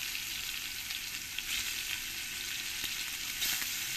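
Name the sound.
paneer pieces frying in hot oil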